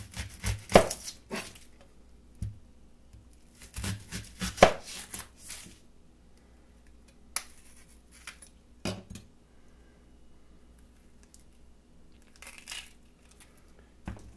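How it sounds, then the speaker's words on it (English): A knife chops through onions on a cutting board in close, quiet detail, with bursts of crisp rapid cuts separated by pauses. "we need to cut up three onions, so this will be the second one"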